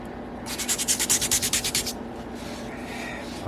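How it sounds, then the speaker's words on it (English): Rhythmic scrubbing on marks left on a prepared fossil shark specimen in its rock, a quick run of about a dozen close, bright strokes, then quieter background. "I went ahead and did some scrubbing on these marks to try to hide them"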